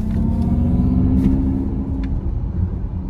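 Selectable synthetic driving sound of a 2022 Mercedes-Benz EQS electric car, a low rumbling hum with a faint rising tone heard from inside the cabin, steady and fairly loud with no talking.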